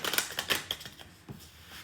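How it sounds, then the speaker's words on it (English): Tarot cards being shuffled at a table, a rapid run of soft papery flicks and taps in quick irregular bursts, close and fairly quiet, with no voices. "I'm going to start shuffling cards and getting ready to go."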